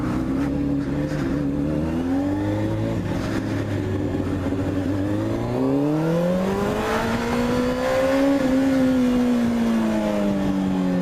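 A Honda CBR 600 RR, a 600 cc four-cylinder sport motorcycle, revs steadily while ridden, its engine note rising and falling through gears with a strong whining drone, plus wind noise and no talk.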